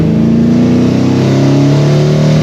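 Holden HT fitted with a swapped 253 V8 revving steadily, a loud, close, continuous rumble with strong low harmonics that rise and fall slightly over a couple of seconds, with no one talking over it.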